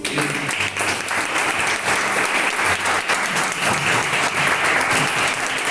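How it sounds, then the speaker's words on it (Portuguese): A church congregation applauds during a service. The clapping is loud and sustained, with dense crowd applause filling the whole stretch and no break. "Você pode aplaudir o seu Deus."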